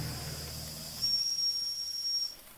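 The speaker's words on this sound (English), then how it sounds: "Whistle works." A thin, high whistle on a Doll 505/4 model steam engine sounds in a few short bursts over a soft hiss and low rumble, fairly quiet and close.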